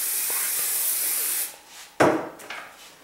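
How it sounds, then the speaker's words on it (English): A steady hairspray aerosol hisses for about a second and a half while styling a high ponytail, then stops, followed by a few brief rustling and handling sounds nearby. "I'm going to just spray it a little bit with hairspray."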